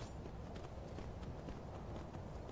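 Horse hoofbeats from a galloping mount in the video game Skyrim Special Edition, a steady rapid clip-clop running continuously over a dense game soundscape with no break.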